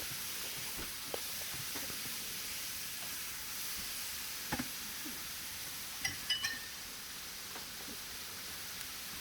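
Chicken frying in a pan while being stirred, a steady quiet hiss of sizzling broken by occasional sharp clinks and scrapes of the utensil against the pan.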